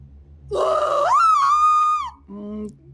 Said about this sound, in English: to perform her signature scream at a local convention for monster movie fans